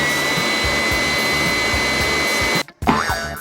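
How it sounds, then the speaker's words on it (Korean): A handheld hair dryer runs loud and steady as it's used to style a cartoon doll's hair, then cuts out abruptly near the end followed by a brief clatter. "드라이기를 켜고 머리를 손질해봅시다"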